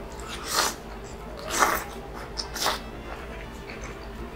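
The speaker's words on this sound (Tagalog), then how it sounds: "Medyo sumisinghot-singhot po ako." Three short, wet sniffles through a congested nose, spaced about a second apart, close and fairly soft against a quiet background.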